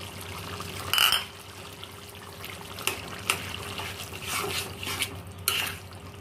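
Eggs go into a boiling pot of fully cooked potatoes, giving a few sharp clanks and splashes against the pot over a steady bubbling hiss.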